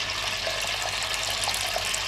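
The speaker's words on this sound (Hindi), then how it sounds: "ये दोनों मिक्स करने के बाद आपने इसमें कम से कम 100 ग्राम पानी डालना है।" Water pours steadily into a yogurt and ghee mixture for balushahi dough, a continuous close splashing gush with no talk over it.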